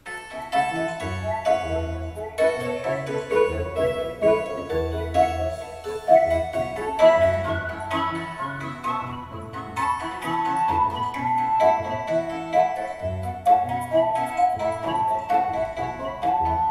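A synthesizer sequence runs through an echo effect, bright repeating tones bouncing over a steady low pulse for about seventeen seconds at moderate, even loudness.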